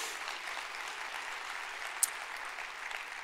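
Audience applause at a church conference, a dense, even wash of distant clapping with one sharper clap standing out near the middle.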